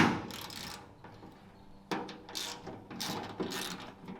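A hand ratchet works on size 14 latch bolts, giving several quick bursts of clicking separated by short pauses, close and fairly quiet.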